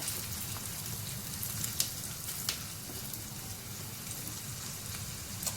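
Cumin and mustard seeds for a tadka crackle and sizzle softly in hot oil, a faint steady frying patter dotted with occasional sharper pops.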